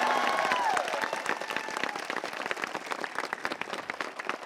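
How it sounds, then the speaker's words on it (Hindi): Crowd of students at a coaching academy result celebration clapping loudly and steadily, dense applause that stays strong throughout and tapers slightly toward the end. "तो एक बार जोरदार तालियां"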